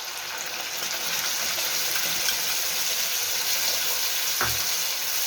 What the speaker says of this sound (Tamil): இந்த இஞ்சி பூண்டு பேஸ்ட் போட்டோம்னா இந்த அரைச்சி வச்ச மசாலாவை போடுறோம்